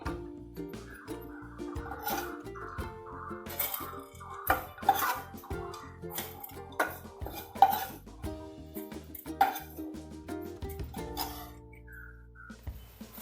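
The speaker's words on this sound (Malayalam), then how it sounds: "ഇതിനെ നമുക്ക് മറ്റൊരു പാത്രത്തിലേക്ക് മാറ്റിയെടുക്കാം" Metal pots, dishes and utensils clink and knock in an irregular, fairly close series while cashew curry ingredients are moved into another vessel in a Kerala home kitchen.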